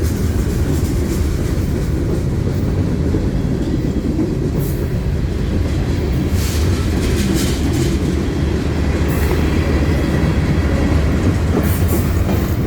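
Freight train rolling past on rails in Lapeer, a loud close continuous rumble with rhythmic clickety-clack of wheels and occasional faint squeals over the steady roar.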